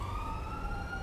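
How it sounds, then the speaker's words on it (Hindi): A police siren in GTA 5 wails steadily in the background over a low engine rumble, continuous and moderately loud throughout the short moment. "ये सायरन की आवाज़ें कहाँ से आ रही हैं भाई?"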